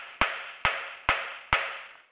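Four hard metallic hammer blows land on the rear axle hub of a Ford Transit, evenly spaced about half a second apart, each sharp crack ringing briefly before the next, close and loud with no talk.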